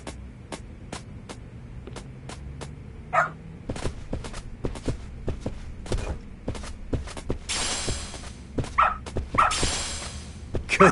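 A dog barks in a long series of sharp, evenly spaced yaps, with some faint static and a few louder bursts toward the end, close and clear.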